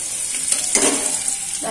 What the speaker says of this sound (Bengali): আমি মশলাটা কষাচ্ছি, তেলটা পেঁয়াজটা একটু ভাজা ভাজা হচ্ছে।